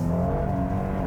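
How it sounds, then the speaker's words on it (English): Steady engine hum with a whirring drone from a 2017 Hyundai Santa Fe Limited, front-wheel drive, spinning its tires on salt-covered road, loud and constant throughout. "this is front drive and we got salt everywhere, this thing just likes to spin its tires all the time"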